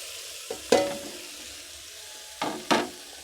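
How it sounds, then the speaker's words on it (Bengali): Pasta is tossed in a pan of hot mustard oil, giving a soft ongoing sizzle. Four distinct stirring scrapes come in two pairs, close by, with no talking. "এবার নেড়ে চেড়ে ভেজে নেব পাস্তাগুলি।"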